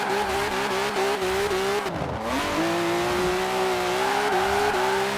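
Supercharged V6 pickup truck engine in Forza Horizon 4, revving hard with a steady, loud drone that dips briefly mid-run, then climbs again with tire squeal hints and no talk.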